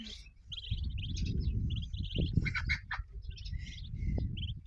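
Ducklings peep in a busy high chorus while a hen clucks and a duck quacks low, all close by over steady outdoor rumble.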